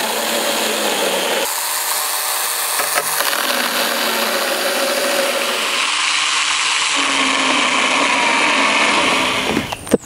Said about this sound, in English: You've got to keep both hands on the tool, turn it on, and then slice this pallet into three different pieces.